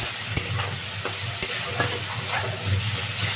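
Salted okra and potato curry cooking down in oil in a pan, with a continuous close sizzle broken by sharp rhythmic scrapes and knocks of a stirring spoon.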